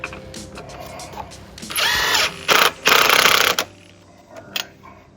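Power tool torquing down wheel lug nuts on a 1965 Ford F-100 shop truck: several short, loud whirring bursts with brief pauses between them, close by, no talk.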